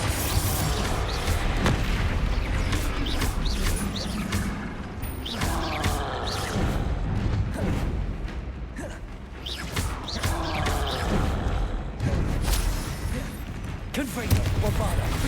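Hogwarts Legacy combat with Bombarda and Confringo spells blasting away, dense and loud throughout, with repeated booming explosions and crackling bursts layered over game music and effects.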